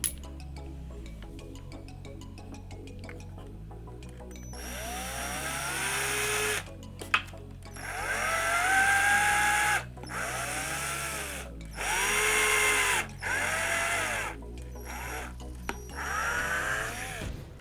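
A power drill whirs in several bursts of a few seconds each, drilling into wood, rising and falling in pitch as it bites in, with quiet pauses between.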